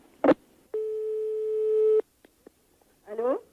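After a phone call is hung up, a steady electronic telephone tone sounds for about a second, framed by brief clicks and a short burst of voice at the end.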